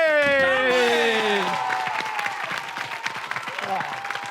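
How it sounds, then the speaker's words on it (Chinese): A burst of audience applause, many hands clapping in a dense patter after a voice's sliding exclamation at the start, sustained and moderately loud. "掌声鼓励！"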